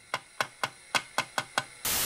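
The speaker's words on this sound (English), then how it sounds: "Then, slowly increase the volume as you tap on the glass." Tapping on a window glass picked up by a piezo buzzer used as a contact microphone through an amplifier: seven sharp, evenly spaced knocks, then a burst of hiss at the end.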